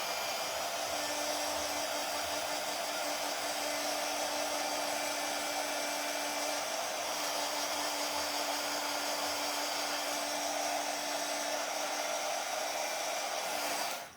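A hair dryer blows continuously on a small mini mailbox craft, a steady close whoosh with a constant motor hum that cuts off abruptly at the end.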